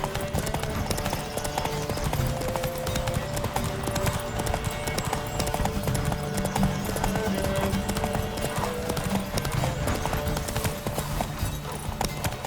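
Horse hooves galloping hard in The Witcher 3: Wild Hunt, a fast continuous clip-clop drumming under a loud rushing wash of game sound, with an occasional whinny.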